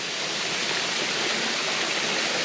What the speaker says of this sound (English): this is standing on top of the waterfall here, looking down.